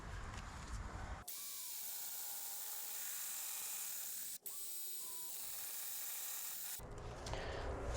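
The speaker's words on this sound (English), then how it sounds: "I'm gonna go ahead and cut this with my bandsaw and see how it turns out." Bandsaw cutting through a part clamped in a vise, a loud steady close-up grinding hiss that runs for several seconds with a brief pause midway, bracketed by the machine's running noise before and after the cut.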